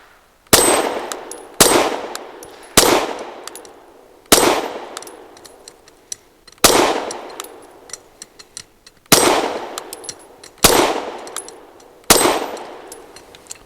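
A Canik METE MC9 Prime 9mm pistol fires PMC Bronze 115-grain rounds: eight sharp, loud shots, evenly spaced about a second or more apart, each with a ringing metallic decay and echo.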